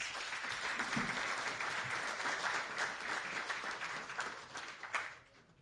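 Applause from a ribbon-cutting audience at a housing opening, a steady wash of many hands clapping at moderate distance that holds evenly before tapering off near the end.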